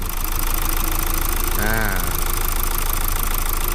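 A freshly rebuilt car engine idling steadily just after start-up in a repair shop, a loud continuous rumble with a faint rhythmic knock, while a voice briefly talks over it partway through.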